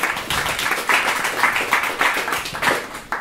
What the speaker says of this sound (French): Je vous demande de l'applaudir.